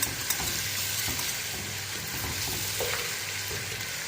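Chicken pieces fry in a pan of hot oil for nihari, giving a dense, continuous sizzle with faint crackles and occasional stirring scrapes, close and steady throughout with no talking.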